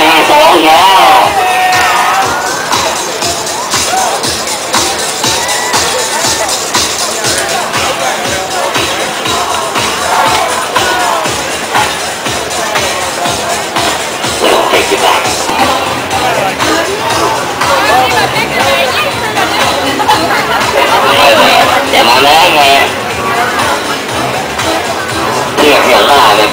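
A party crowd at an event cheers, whoops and shouts back in unison, a loud dense hubbub of many voices sustained throughout.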